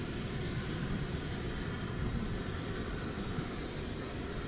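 An MD-11 airliner at Dallas Fort Worth International Airport, its engines a steady broad roar that holds even and fairly distant throughout, with no voices over it.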